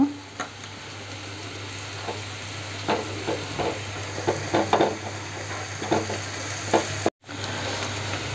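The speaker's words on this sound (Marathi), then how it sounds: "थोडीशी किंचित मी हिंग घालते, तो चांगला तेलात आपण परतून घ्या हिंग" Asafoetida sizzling in hot oil in a pan while cabbage bhaji is being made: a steady, close frying hiss with scattered sharper crackles and occasional spoon scrapes and stirring knocks against the pan.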